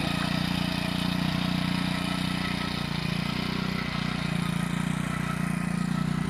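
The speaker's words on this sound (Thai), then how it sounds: "มาแล้วรถไถน้อย" A small walking tractor engine chugs steadily close by, a constant low rumble that holds the same pace without any voices.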